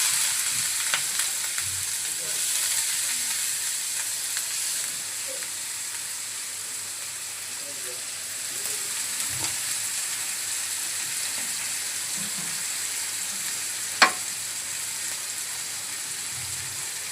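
Vegetables for sabudana pulao fry in a pan with a steady, close crackling sizzle throughout, broken by a single sharp clink near the end, and no one speaking.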